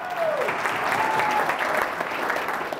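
Audience applause fills the room as a steady, dense clapping wash at a motivational money-mindset talk, with a few faint voices and brief tonal sounds mixed in.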